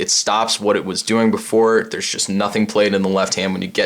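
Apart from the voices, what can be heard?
No distinct noise like a dog, phone or traffic.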